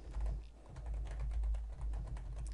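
Soft computer keyboard typing as a query name is entered, a faint patter of key taps over a steady low hum, with no talk.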